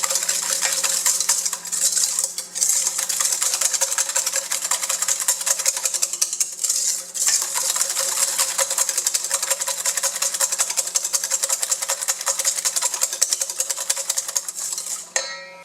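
A whisk beats sugar into cake batter for apple caramel cake in a bowl, a steady, fast, close scraping rattle that runs almost without pause, briefly dipping a few times.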